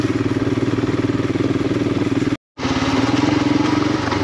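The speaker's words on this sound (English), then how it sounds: "It's just a good torquey, that 411, I think it is, CC. It's just good and torquey. You can pretty much just let it chug along" A Royal Enfield Himalayan 411cc single-cylinder engine chugs at low revs with a loud, steady, rhythmic thump, broken by a brief cut of silence before it resumes.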